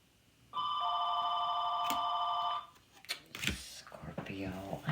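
A telephone rings with a steady electronic warble for about two seconds, loud and close, then cuts off as a person starts talking.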